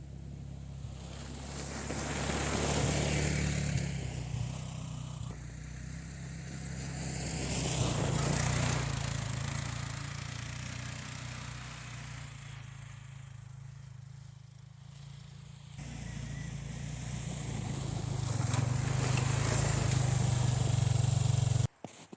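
An ATV engine runs steadily with a low droning hum, its pitch rising and falling through the stretch and growing louder near the end, with no voices present.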